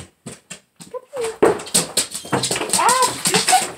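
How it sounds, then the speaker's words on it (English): A family's pet dog whimpers and yips in short, high, wavering cries, starting with sparse isolated whines and building into a denser run of close, fairly loud whimpers. "So that's my dog. Well, my family's dog."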